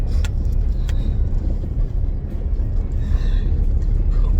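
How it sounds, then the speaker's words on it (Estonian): A car drives past other cars on a rainy day, heard from inside the vehicle as a loud, steady low road rumble with faint higher swishes. "Sõidan praegu mööda autodest."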